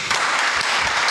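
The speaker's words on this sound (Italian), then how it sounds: "Io non so quanto si sentiranno questi applausi attraverso questi podcast e strisce" Audience applause at a Politecnico talk event forms a brief, dense burst of clapping that lasts just over a second.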